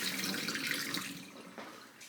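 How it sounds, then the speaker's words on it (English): Hot water poured from a pressure canner into a sink, a continuous splashing gush that fades slightly toward the end, heard alone and close. "Pour the hot water out."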